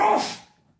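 A single short sneeze bursts out close and loud, then trails off quickly into quiet.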